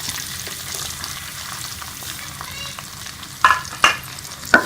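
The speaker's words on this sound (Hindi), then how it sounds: "ये मैंने कढ़ाई के अंदर ऑयल डाला है और इसके अंदर मैं ये प्याज डाल दूंगी।" Onions sizzle and fry in hot oil in a karahi, a steady broadband hiss with a few sharper spattering pops toward the end, close and loud, with no voices.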